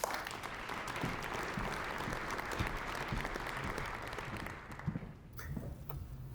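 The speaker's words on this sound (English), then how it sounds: "Please give him a warm round of applause." An audience at a conference applauds a speaker from Statkraft, steady dense clapping in a hall that holds evenly and then tapers off near the end.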